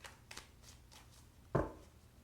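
Tarot cards are shuffled by hand in a quiet room, with soft riffling swishes at a gentle rhythm, then one sharper slap of the deck near the end.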